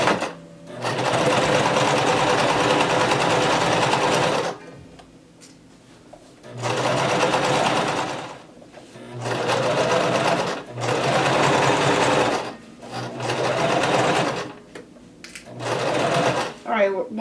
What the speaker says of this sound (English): So begin sewing